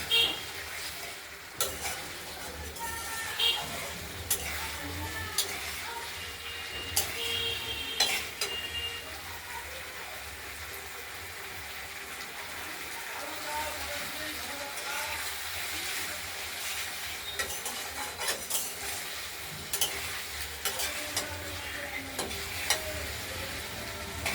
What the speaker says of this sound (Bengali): এবার তেল ছেড়ে দেবো সুন্দর মশলাটা থেকে।